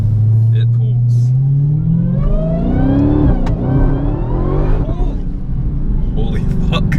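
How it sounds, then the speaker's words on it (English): 2018 Dodge SRT Demon accelerating hard from inside the cabin, a deep loud engine roar climbing steadily in pitch with a shift around midway, then continuing to pull; a voice talks briefly over it. "I'm in a Demon. This is number 1551, as in 1551. So here's a little acceleration."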